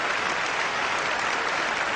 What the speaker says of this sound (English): Let's applaud for him because it's good.